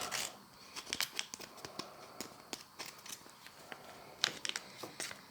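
Knife or scissors trimming excess pastry from the edges of a mince and onion pie, a string of quiet, irregular cutting and crinkling snips close by.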